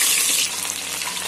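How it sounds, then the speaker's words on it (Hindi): Onions sizzle and crackle steadily in hot mustard oil, a loud, dense, close frying hiss with no voices. "प्याज को हम फ्राई कर लेंगे।"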